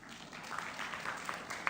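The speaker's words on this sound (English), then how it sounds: "can we give all of us a big round of applause?" A conference audience gives a round of applause, a dense wash of many hands clapping, faint and distant throughout the brief stretch.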